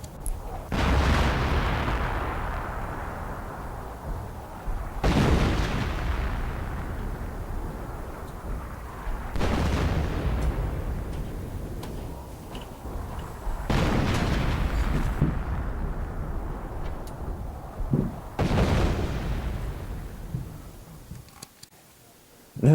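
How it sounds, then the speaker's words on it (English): Artillery shells bursting near World War I trenches: five heavy booms, roughly evenly spaced, each a loud deep blast that trails off into a long rumbling decay. "No less than 5 shells have burst beside me since I started to write."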